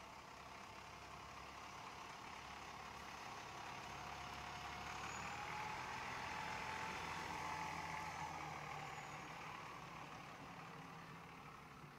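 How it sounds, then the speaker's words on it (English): A tractor-drawn aerial fire truck with multiple steering axles works through a tight turn, its engine a faint, steady low drone heard from a distance, swelling slightly mid-way and then easing, with a thin whine drifting over it. "Same turn, same approach with the tractor drawn aerial."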